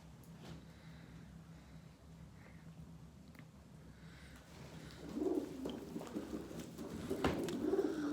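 Pigeons coo in soft, low bursts, faint at first and then louder and closer toward the end, over a quiet background.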